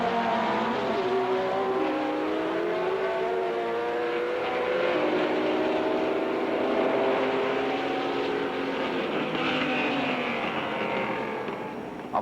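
A 1967 Formula One race car at Mosport, its engine roaring loud and continuous as it passes, with rising and falling pitch sweeps across twelve seconds, fading slightly at the end.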